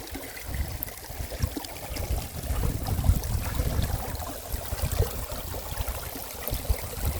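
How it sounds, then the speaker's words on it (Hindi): Clear mountain water flows at Adi Kailash in a continuous broadband rush, loud and close, steady for the whole stretch with no talking. "ये आदि कैलाश का एकदम साफ पानी है।"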